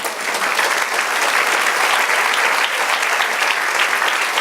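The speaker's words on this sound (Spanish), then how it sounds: "Denle un aplauso al Señor." A church congregation applauds steadily and loudly for several seconds, a dense, even wash of clapping with no voices over it.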